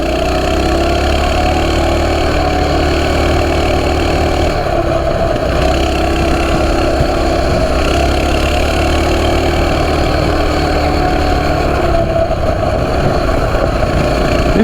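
A Coleman CT200U mini bike engine runs steadily and loudly on gravel, holding a constant near drone with slight rises in revs throughout.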